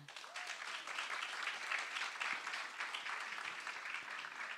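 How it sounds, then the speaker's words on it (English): Audience applause at a short film premiere held live at 83 Rivington Street, a fairly faint, steady patter of many hands clapping throughout with no talk over it. "Please give her a round of applause."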